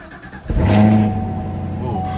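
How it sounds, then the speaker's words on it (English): A 2019 Chevrolet Camaro SS 1LE V8 engine cranks and catches with a sudden loud burst, then settles into a steady, rumbling idle close by. "Now that the car is started up"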